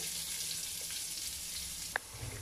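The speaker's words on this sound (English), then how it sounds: "In the same oil, I'm going to add in 1 teaspoon of cumin seed, and the onions goes in." Cumin seeds and onions frying in oil, a soft steady sizzle at low level with a single bright clink of a utensil near the end.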